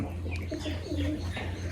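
Low, soft coos of Rajshahi Giribaj pigeons murmur steadily close by, with faint higher bird chirps over the top.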